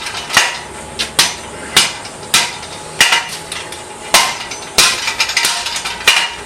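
A blacksmith hammers hot steel on an anvil, sharp ringing metallic strikes landing at a steady pace of roughly one to two per second, close and loud, with some quicker double blows near the end.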